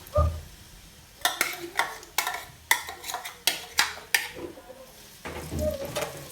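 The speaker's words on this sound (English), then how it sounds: "I allowed my onions to fry a bit" Onions frying in oil in a soup pot for egusi soup, heard as a run of sharp spoon scrapes and clinks against the pot over a low background, with quieter stretches at the start and end.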